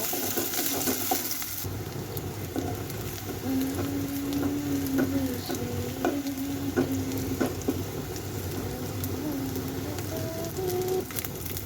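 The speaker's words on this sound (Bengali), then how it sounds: "পেঁয়াজটা ভেজে নিয়ে এখানে মশলা কষে নেব।" Onion fries in a pan with oil left from frying katla fish, a steady close-up sizzle running throughout with occasional stirring clinks and faint bird calls in the background.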